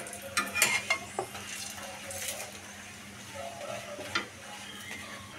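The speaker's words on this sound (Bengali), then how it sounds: "সেম এখন প্রসেসে আমি আর একটা পরোটা বানিয়ে দিচ্ছি" An egg paratha frying in a pan, giving a soft low sizzle with scraping and clinking of a spatula against metal, louder in short bursts early on and then quieter.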